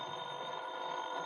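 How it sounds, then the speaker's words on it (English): A telephone bell rings continuously in an old time radio drama, a steady bright metallic trill, faint and alone, with no voices. "the phone rang"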